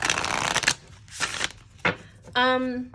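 Lenormand oracle cards riffle and snap in several quick bursts, with brief pauses between shuffles and a short voice near the end.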